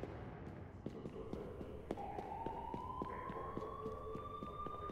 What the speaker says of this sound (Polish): Wyją syreny.